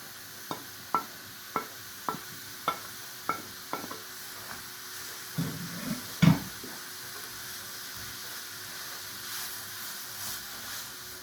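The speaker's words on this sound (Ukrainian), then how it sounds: "Тепер тушкуємо морку." Carrots stewing in a pan for liver pâté: a run of quiet, evenly spaced utensil taps against the pan, then a few scrapes over a soft, continuous sizzle.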